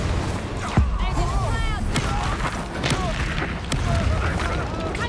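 Incendio fire spell cast in the Hogwarts Legacy video game, a sharp burst followed by booming, crackling combat blasts and whooshes amid ongoing fight noise and a voice calling out.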